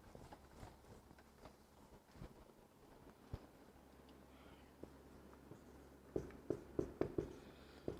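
Marker or chalk strokes on a classroom board during a chemistry lesson on atomic structure, faint scratchy taps scattered through a quiet room, growing louder and more rhythmic near the end as several quick strokes land in succession.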